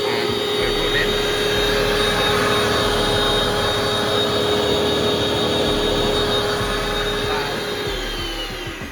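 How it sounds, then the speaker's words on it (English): An electric carpet cleaning machine and its pump run continuously for a wool lounge carpet, a loud steady whirring drone with a high whine, close and unbroken throughout. "I'm going to turn the machine on and let's see what happens. And one back, and two back on the pump, and we're running."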